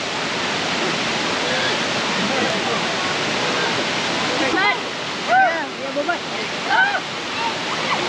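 Kuang Si waterfall in Laos pours as a broad, continuous rush of white noise. Partway through, a few people's voices rise briefly over the roar.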